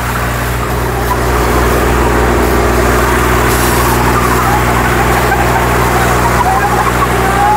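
A modified Swaraj tractor's engine runs in a heavy, continuous diesel drone with a steady low throb, loud and close throughout.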